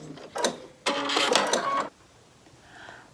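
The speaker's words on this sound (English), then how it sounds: "I'm going to sew all the way down to the bottom here and back stitch at the end as well" A sewing machine stitches a seam on a fabric origami pouch in two bursts, first a short one, then a longer steady whirring run, close and loud, followed by quieter handling.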